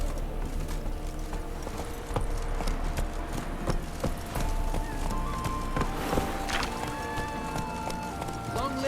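Rhythmic clip-clop of a horse galloping over ground in the video game Witcher 3, steady hoofbeats close up, with spoken lines from the game over the running.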